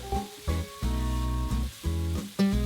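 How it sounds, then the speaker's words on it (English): Tuna casserole with peas cooking in a pan, a steady close sizzle and frying sound in bursts, with strong tonal hum throughout and no talking. "mix in 267 grams of peas and let everything cook for another couple of minutes"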